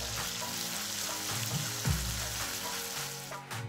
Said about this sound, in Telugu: ఇప్పుడు ముందుగా చేసి పెట్టుకున్న మసాలా పేస్ట్ని వేసుకొని 1 నిమిషం బాగా వేయించుకోవాలి.